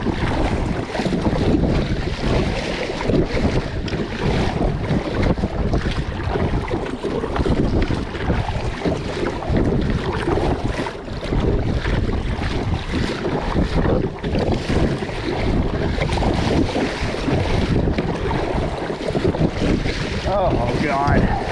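Heavy wind buffets the microphone on a bass fishing boat out on open water in August, a constant loud roar with gusts and splashing waves throughout, no voices breaking through.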